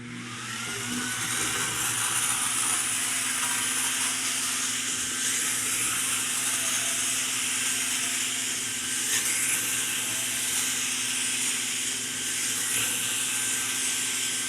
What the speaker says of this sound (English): So we're going to do steam only, no extraction, and just turn the vacuum on.